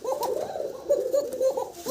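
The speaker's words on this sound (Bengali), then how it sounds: "এটা তো ডাক একটু বেশি দেখানোর জন্য আরও একটা সাদা ককা দিয়ে দেওয়া হয়েছে" White Kokka pigeons coo close by, a series of rolling, throaty calls pulsing in quick succession, loud and clear with no talk.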